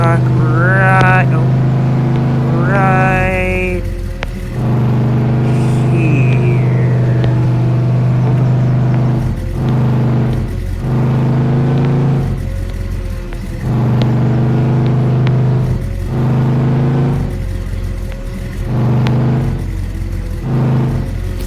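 A pickup truck engine hums steadily at low speed while the truck is parked on a cattle farm, with brief swells in revving. Someone talks over the continuous rumble throughout.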